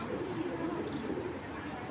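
An indigo racer pigeon coos softly and steadily, a low continuous murmur close by.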